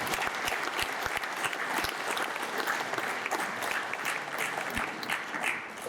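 Audience applause fills a ceremony hall for an induction at the Académie Alphonse Allais in Honfleur, a steady dense clapping that stays loud and even throughout, with no voices over it.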